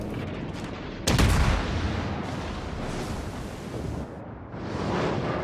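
The heavy cruiser Atago fires a naval salvo in World of Warships, a sudden loud boom followed by a long rumbling roar and the sustained whoosh of the game's sea ambience.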